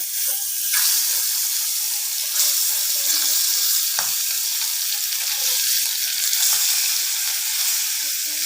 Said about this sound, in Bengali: তো ফার্স্টে সরপুঁটি মাছটা আমরা ভেজে নিব আপনারা